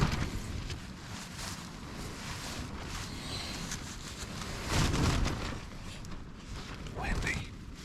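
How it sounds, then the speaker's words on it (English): Wind gusting on a mountain trail in early spring, a steady rough roar with swells around the middle and near the end, buffeting close against the microphone. "Windy."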